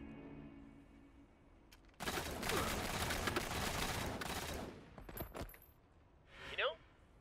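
A burst of gunfire from a played episode of the animated web series Red vs. Blue sounds as a dense roar lasting a few seconds, followed by a few sharp cracks, with muffled talk in the background.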